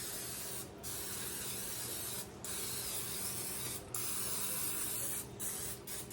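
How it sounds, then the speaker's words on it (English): Several long hissing bursts from an aerosol can of canola oil cooking spray, each lasting a second or more, separated by brief pauses. Close and steady. "I'm just gonna take my canola oil spray and spray the insides of them"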